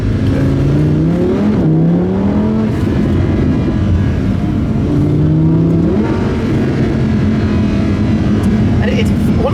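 A Lamborghini Huracán LP610-4 driving in Stockholm revs up and down through gear shifts, its engine note rising and falling repeatedly, loud and close, with a voice talking over it.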